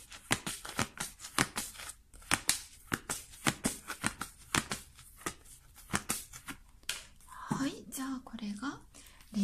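Tarot cards being shuffled and handled in a quiet room give a run of crisp, quick riffling snaps in short bursts, with soft voice-like rustling near the end.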